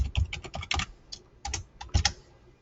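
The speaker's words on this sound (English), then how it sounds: "We're going to type in hallowed." Quick bursts of keystrokes on a computer keyboard as a single word is entered, crisp close clicks in irregular clusters with short pauses between them and no voices.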